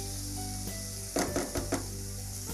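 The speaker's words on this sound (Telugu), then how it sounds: "సో ఒక 5 మినిట్స్ మనము ఈ తయారు చేసుకున్న మసాలాలో చికెన్ని కుక్ చేద్దాం." Chicken cooking in masala in a pan, a steady low sizzle with a few brief louder bursts of stirring and scraping midway, close and alone.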